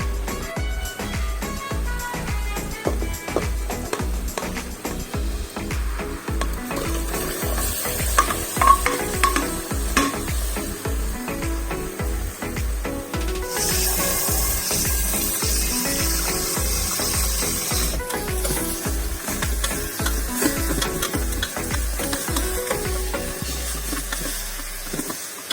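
Curried mutton frying in a pot is stirred with a steady, repeated scraping rhythm under a continuous sizzle, close and fairly loud, with no talking.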